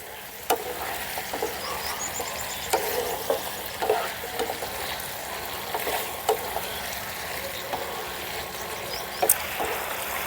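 Flour mixture stirred around a hot pan, a soft continuous sizzle broken by scattered scraping knocks of the spoon, close and moderately loud with no talking.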